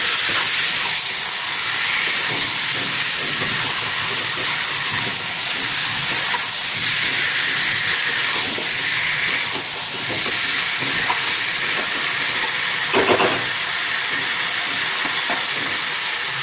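Chicken for homemade biryani sizzling loudly in a pan as it is stir-fried, a dense continuous hiss close up with occasional scraping stirs and no talking.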